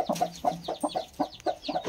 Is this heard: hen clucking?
yes